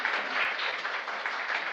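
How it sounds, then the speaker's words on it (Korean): A church congregation breaks into warm, even applause for a family called forward, a continuous wash of clapping with a voice present underneath. "박수로"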